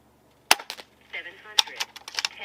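A Gamo Arrow .22 airgun firing at an outdoor expo range, two sharp cracks about a second apart, each followed by a short spatter of echoing clatter, close and loud.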